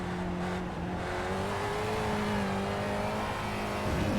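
A race car engine roars in the iRacing sim at Lime Rock, holding a steady, loud drone with a slowly rising and falling pitch, alone with no talk.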